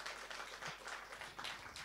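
Audience applause for researcher Elena Georges at an environmental science evening, a steady, quiet patter of many hands clapping continuously throughout.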